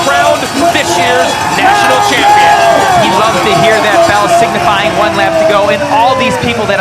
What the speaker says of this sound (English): Phil Gaiman coming in, the crowd letting him hear it